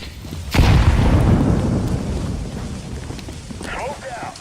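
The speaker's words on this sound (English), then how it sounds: "Throwing grenade." A grenade explosion in a shooter video game, a single loud blast that booms and then rumbles away over a few seconds, with voices nearby.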